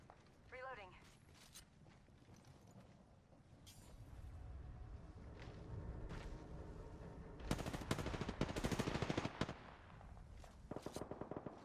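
Rapid bursts of machine-gun fire from a shooter video game, crackling loudest in a dense volley near the end, layered over game music and mechanical clicks.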